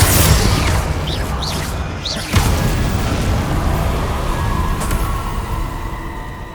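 Fiery Confringo spell blast in Hogwarts Legacy on PS5, a dense roaring rumble with a sharp thump partway through and a couple of whooshing sweeps, loud and continuous throughout.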